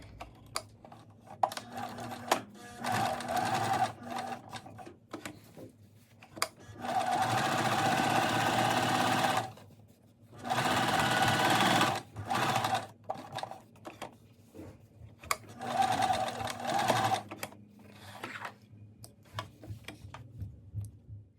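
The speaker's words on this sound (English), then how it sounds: "we want to stitch real close to the edge. So we're going to stitch about a 1/16 away" A sewing machine stitches a seam close to the fabric edge while sewing an inseam pocket with French seams, running in several bursts of steady rapid whirring separated by short pauses, close and clear with no talk.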